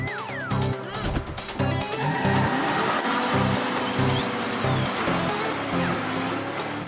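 In a cartoon, a truck races along with a roaring engine and repeated high tire squeals over dense action noise. Voices talk over the driving sound.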